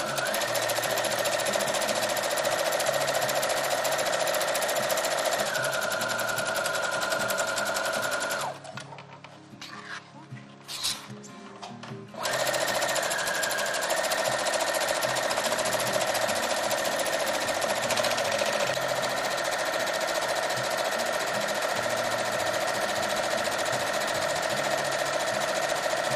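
A home sewing machine stitches binding tape onto a cloth face mask, running in a long steady rapid hum with a brief pause and a few clicks midway before the stitching resumes.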